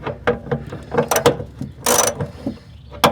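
Ratchet wrench loosening a bolt, loud close clicking pawl strokes in quick uneven bursts with a brief rasping spin midway.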